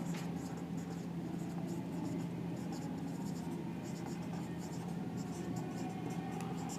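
A pen writes by hand on paper during an accounting lesson on share issues, leaving faint, rapid scratchy strokes in short bursts under a steady low hum.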